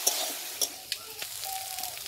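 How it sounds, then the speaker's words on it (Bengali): Potatoes fry in a pan while preparing a cauliflower and coconut puli pitha filling, a soft continuous sizzle with a few sharp clinks and stirring scrapes up close. "আলুটাকেও একটু ভালো করে ভেজে নেব"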